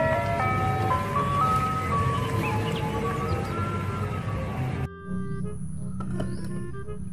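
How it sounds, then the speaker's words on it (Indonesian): An ice cream truck plays a chiming, tinkling melody that carries steadily over background noise, then cuts abruptly to a quieter stretch of the same tune. "Yang ini ada mobil es krim."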